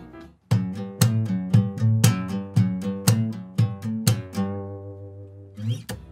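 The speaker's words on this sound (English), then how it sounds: "So in this case, I will combine it with wrist thumbs," Fingerstyle guitar played with string slaps and wrist thumbs: about a dozen sharp percussive hits in a steady rhythm over ringing chords, close and clear, ending in a held chord and a final strum.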